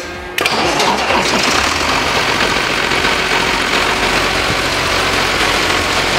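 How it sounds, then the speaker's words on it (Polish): An Ursus 1204 tractor engine, freshly rebuilt, catches and starts abruptly, then runs loud and steady at a low diesel idle from close by. "Silnik pracuje, silnik przekazuje napęd."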